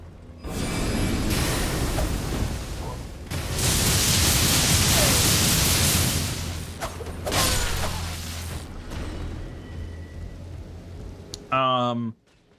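Loud rushing, hissing noise like a downpour swells in bursts from a rain spell in Elden Ring, with mechanical clanks and a brief tonal chime at the end.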